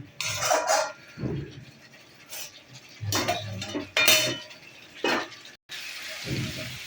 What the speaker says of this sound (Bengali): ফুলকপি আলুটাকে দিয়ে দিয়েছি, দিয়ে কষাচ্ছি একটু